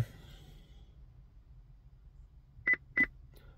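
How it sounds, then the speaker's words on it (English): Two short, crisp electronic beeps from a Chevrolet Equinox during key fob programming, close and clear, spaced about a third of a second apart after a stretch of quiet room hum. "you will hear two beeps"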